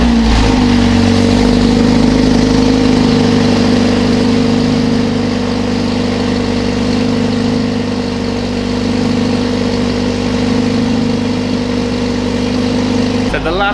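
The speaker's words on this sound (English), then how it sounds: "This is going to be the last cold start with the OEM exhaust and the new downpipe." A Mercedes-AMG A45s with its OEM exhaust, no link-pipe resonator and a new 200-cell sports cat downpipe idles loud and close after a cold start, a steady deep drone holding for about fourteen seconds before a sudden cut at the end.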